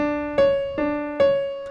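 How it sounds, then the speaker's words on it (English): A keyboard plays a major seventh, low and high notes alternating in quick succession, each tone ringing clearly and fading slightly. "The 7th note of a major scale is a major 7th interval,"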